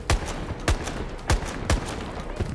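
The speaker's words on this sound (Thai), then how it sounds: "ลูกซองสไนเปอร์ เขายิงกันอย่างนี้แหละครับ" Rapid shotgun blasts fired sniper-style in a crowded video game match, five sharp loud reports spaced roughly half a second apart over steady background noise.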